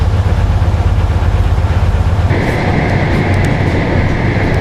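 Steady rumble inside a moving passenger train on an English rail journey, a continuous loud low drone with rhythmic rolling texture, shifting partway through to a brighter tone with a faint whine.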